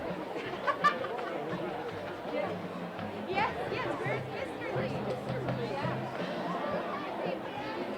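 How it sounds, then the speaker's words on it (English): Big crowd murmuring in the stands at a night high school football playoff game at JTO Cardinal Stadium, a steady babble of distant chatter with scattered voices and light laughter. "In front of a big crowd here tonight"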